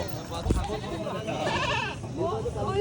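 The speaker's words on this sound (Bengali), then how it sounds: "বাবা কত ছাগল দেখো গাড়িতে করে নিয়ে এসেছি বিশাল ছাগল তো" Goats brought by vehicle to a market bleat in wavering, nearby cries while people talk over a busy background hum.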